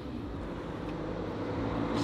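A quiet car hums along with a smooth, hovering drone, a steady low rumble of road and cabin noise with no talk over it.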